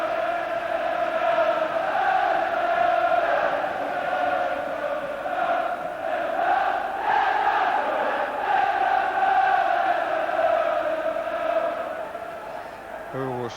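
Terraces at a Liverpool v Everton football match roaring with shouting and chanting, a continuous loud crowd din with swelling rhythmic chants, fading slightly near the end.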